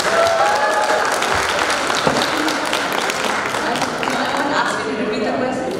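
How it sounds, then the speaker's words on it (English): An audience at a panel discussion applauds steadily, a dense wash of many hands clapping throughout, with faint voices mixed into the crowd. "round of applause for Sneha, please."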